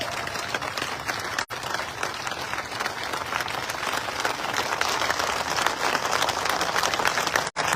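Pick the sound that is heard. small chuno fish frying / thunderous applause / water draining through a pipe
thunderous applause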